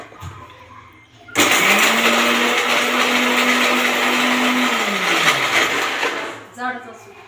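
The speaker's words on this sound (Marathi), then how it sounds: "थोडासा कढीपत्ता आणि कोथिंबीर याचं आता आपण मिक्सरला वाटण करून घेणार आहे।" A kitchen mixer grinder blends cumin, curry leaves and coriander into a paste. It switches on abruptly, whirs loudly and steadily for about five seconds, then winds down and stops.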